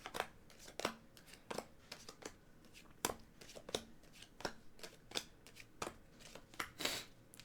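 Playing cards dealt one by one for a two-player cribbage hand, six cards each, in a quiet close-up setting: crisp, soft snaps and slides repeating at an irregular rhythm, with no talk.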